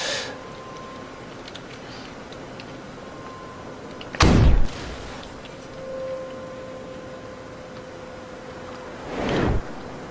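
Enemy ships blow up in the naval combat game From The Depths: two loud, sudden booming blasts several seconds apart, each with a short rumbling tail, over a quiet background hum.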